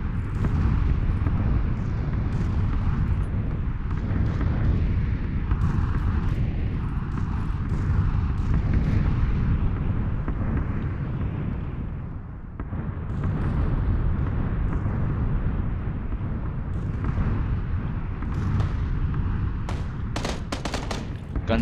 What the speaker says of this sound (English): Bombing on my site again?